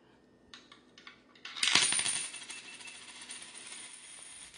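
A quarter drops into a coin acceptor after a few small clicks, striking with a bright metallic clatter that rings and slowly fades.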